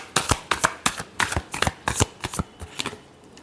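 Tarot cards shuffled by hand in quick close riffles, a dozen or so crisp slapping bursts in an uneven rhythm that taper off toward the end, with no talking over them.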